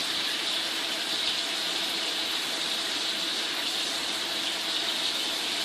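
Hands are lathered and scrubbed under a running tap, a steady, close rush of water flowing without pause throughout, with no voices.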